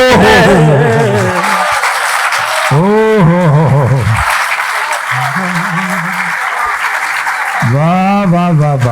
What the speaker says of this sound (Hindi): तालियां और बजनी चाहिए भाई साहब